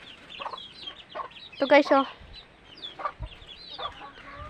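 Chickens cluck in their coop, a cluster of bright overlapping clucks rising midway, with scattered calls before and after, while a person talks over the birds.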